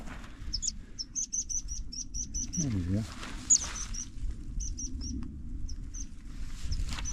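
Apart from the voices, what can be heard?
fledgling bird chirping on a hill path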